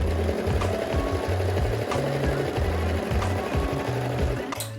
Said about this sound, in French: Et on va le faire au surjet et ensuite on va replier et faire un point zigzag sur le dessus de la culotte.